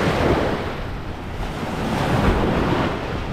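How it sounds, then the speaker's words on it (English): Choppy ocean surf on a windy morning before an open-water 5K swim race, a loud continuous wash of waves with wind buffeting the microphone. "The waves are looking a little choppy this morning."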